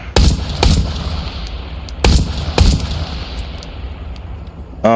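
Pistol gunshots in the VR shooter Into the Radius 2, four loud sharp reports fired in two quick pairs, each ringing out briefly before the next, with no talking.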